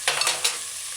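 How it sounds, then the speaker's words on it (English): Chopped onions hit a hot pan and get stirred to sauté for a vegan bok choy stew, a brief burst of sizzling with a couple of scraping stir strokes, close and bright, then a steady soft fry. "So add your chopped onions. Stir it in, and allow it to saute"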